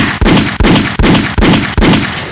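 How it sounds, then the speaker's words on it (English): Five loud, sharp gunshot-like bangs fire at a steady rhythm, each a sudden crack followed by a brief rumbling decay, close and dominant with no talk. "Look at the gunshot."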